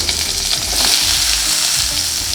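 Sliced radish sautés in a hot pan, giving a steady, close frying sizzle with occasional stirring scrapes, with no voices over it.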